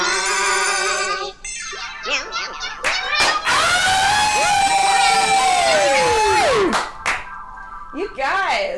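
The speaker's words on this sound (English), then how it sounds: "Wait, the clapping ended too soon." A studio audience at a talk show claps and cheers loudly, with shrill whoops and shouted voices over dense clapping, broken by a few sharp loud bursts and a long sliding squeal.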